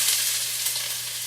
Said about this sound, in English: So once your nonstick skillet is nice and hot, get those onions in there. Let them saute for around 10 minutes.